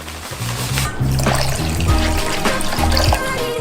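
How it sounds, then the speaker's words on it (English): Hot liquid candy coating for giant homemade Skittles pours steadily into a mold, a loud continuous trickle and splash with faint clinks of the saucepan. "only now do we pour in the candy coating"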